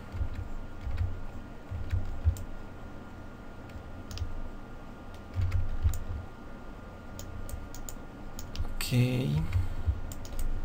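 Keys on a computer keyboard are pressed in scattered single taps and short bursts while working in 3D sculpting software, close and crisp, with a brief spoken word near the end.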